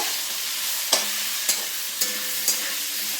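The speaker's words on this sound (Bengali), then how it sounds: "খুব ভালো করে নেড়ে নেব" Potatoes fry with salt and turmeric in a pan, a steady close sizzle broken by about four distinct clinks of a spoon as they are stirred.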